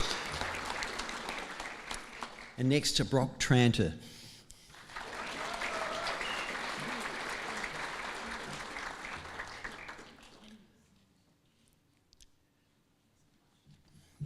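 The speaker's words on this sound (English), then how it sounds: "a round of applause for her" A graduation ceremony audience claps in a long, even round of applause that fades away, after a name is read out over a microphone.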